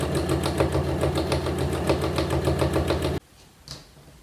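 Close, steady sewing machine running for about three seconds as it quilts fabric along a guide bar, with a fast even stitching pulse, then stopping abruptly and leaving a faint click.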